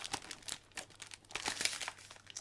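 Scissors snip around polystyrene packaging while unboxing a third-party Star Ace Kong figure, giving soft, quiet crinkling and crunching bursts in an irregular run.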